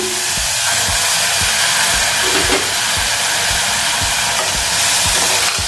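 Chopped tomatoes hiss and sizzle loudly in a frying pan over ginger, garlic and turmeric for green peas kurma, with a steady frying roar and regular scraping strokes of stirring throughout.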